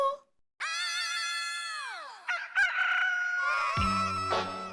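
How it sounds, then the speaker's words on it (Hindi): A loud, drawn-out rooster crow rises and falls in pitch, followed by clucking and a short burst of voices near the end. "लगता है मुर्गा घर में घुस गया है।"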